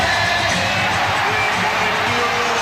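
A packed basketball arena crowd roars without a break at a 1992 NBA Eastern Conference playoff Game 7 between the Bulls and Knicks, a loud, dense wall of cheering and whooping.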